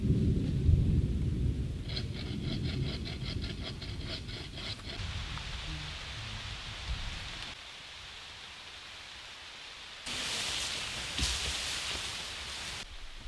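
Thunderstorm with rain over a wilderness campsite during a canoe camping trip: deep rumbling thunder rolls under steady rain noise, with spatters and drips, and a fresh burst of heavier rain toward the end.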